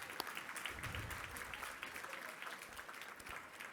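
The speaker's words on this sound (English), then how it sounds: "That big, huge applause." Applause from a dinner audience at a world citizen award event, heard faint and distant, a steady wash of many hands clapping throughout.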